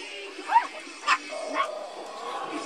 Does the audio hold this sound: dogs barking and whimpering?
yes